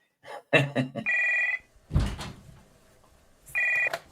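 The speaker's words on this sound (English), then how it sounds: "But you can't beat a rotary phone." An old rotary telephone rings in two short electronic bursts, close and clear, separated by thumps and brief handling noises.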